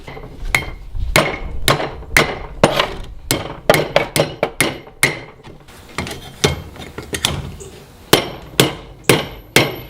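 A restored 2lb sledgehammer strikes hot metal over and over while forging a finial, sharp ringing blows in an uneven rhythm, close and loud with short pauses between bursts.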